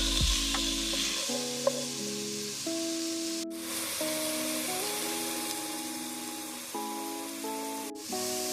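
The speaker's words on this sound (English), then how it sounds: "my green bell pepper, and also my onion. You want to let that saute for 3 to 4 minutes." Green bell pepper and onion sauté in a pan for a stuffed pepper soup, giving a steady bright sizzle throughout under sustained tonal background music, with no talk.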